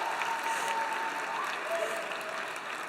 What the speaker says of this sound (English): I was gonna ask you guys to clap and cheer if you had a great time at UTMUN.